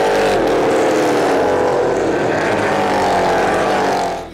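NASCAR race car engines roar loudly and continuously at a race in Europe, a dense sustained drone that fades slightly at the very end.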